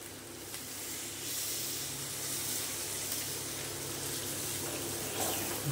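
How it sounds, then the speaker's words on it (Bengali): Water is poured into a cooking pot of chicken kalia, giving a soft, steady gushing hiss that runs evenly throughout at a fairly quiet level. "বন্ধুরা এবারে দিয়ে দিচ্ছি জল।"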